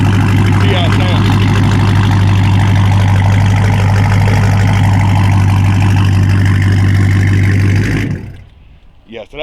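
A modified Dodge Charger Scat Pack Widebody engine idles close by with a steady, deep exhaust rumble, then cuts off abruptly near the end, leaving quiet.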